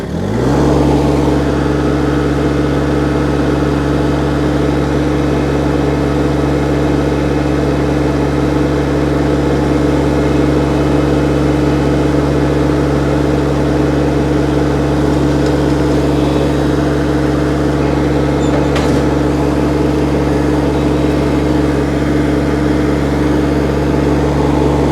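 An Iseki SXG323 ride-on mower engine runs loud and steady from start to finish, a constant droning hum with no break in level while the grass hopper tips.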